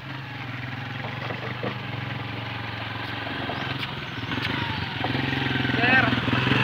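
Motorcycle crossing a hanging bridge over muddy water, engine idling and puttering steadily close by, growing a little louder toward the end, with people talking over it.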